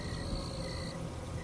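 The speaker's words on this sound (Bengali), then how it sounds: "বাইরে গিয়ে দেখে ঝিঝি পোকার ডাক ভেসে আসছে।" Crickets chirp steadily at night in a quiet, fog-covered village, a thin continuous trill that fills the short stretch without pause.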